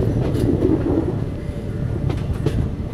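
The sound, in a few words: train running on rails, Gooty to Bangalore train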